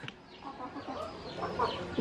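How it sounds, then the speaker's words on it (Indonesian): Several chickens cluck close by outdoors, short irregular clucks overlapping in a quick busy rhythm. "Dan itu ayam-ayamnya tuh."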